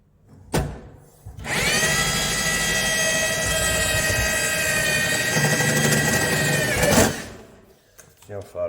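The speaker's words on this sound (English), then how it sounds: "It's a 50mm hole saw." A cordless drill spins up with a 50mm hole saw, whining steadily for several seconds before stopping abruptly.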